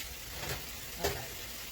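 Burrito cups browning in a pan give a faint, steady sizzle and crackle, with a couple of soft clinks, no voices.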